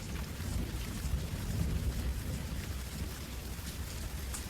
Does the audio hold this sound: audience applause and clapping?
no